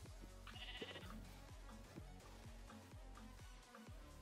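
Sheep bleat in Minecraft over a busy game soundtrack with repeated thumping beats, the animal calls faint and partly buried in the steady mix.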